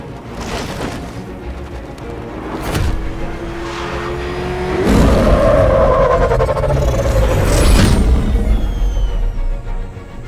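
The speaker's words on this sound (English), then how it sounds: "How are you gonna stop that car?" Car engine in the video game Batman Arkham Knight, revving and accelerating loudly around the midpoint with a rising roar, amid explosive booms and game action, no talk.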